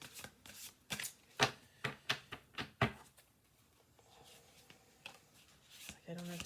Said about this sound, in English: I'm shuffling the cards